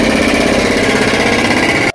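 A drill machine runs steadily and loudly nearby with a dense buzzing whine, then cuts off abruptly at the end, with no talking over it.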